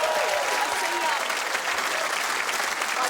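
Studio audience on a television footy show applauding a guest named Beck, a dense, steady wash of clapping and crowd noise held loud and close for the whole stretch.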